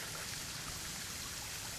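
Waterfall and stream water at Waterfall Glen make a dense, continuous rushing wash, close and even, with no voices.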